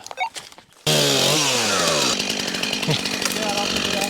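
A chainsaw roars to life after a brief quiet moment, revving up sharply and then running loud and steady as it cuts through a fallen tree, close by.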